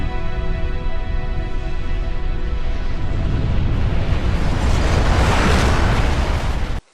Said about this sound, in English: the force of the explosion closes the slipspace portal